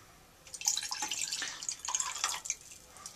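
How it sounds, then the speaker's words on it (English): Distilled water poured from a graduated cylinder into a lab container, a thin splashing trickle with light drips lasting a few seconds, close and fairly quiet. "Alright, so there's my distilled water that I used in the cylinder. And I'm going to pour that in there."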